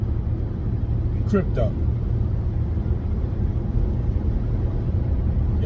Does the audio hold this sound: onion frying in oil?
no